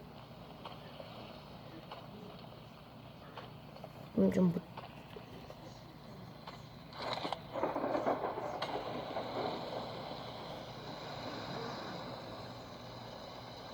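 A boat motor drones steadily in PUBG Mobile as the craft drives across water, a constant mid-level hum with a few brief louder bumps, while someone talks over it.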